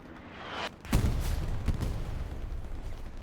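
Artillery fire and explosions boom across a Hell Let Loose battlefield during a tournament match, a sharp blast followed by rumbling detonations and a sustained low roar, fairly loud and close.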